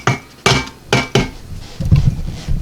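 Food clunks and clatters into a pressure cooker pot while pasta shells and sausage are prepared, giving several sharp metallic knocks at uneven intervals and then a softer shuffle of stirring.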